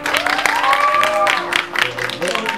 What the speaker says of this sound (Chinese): 来掌声好不好？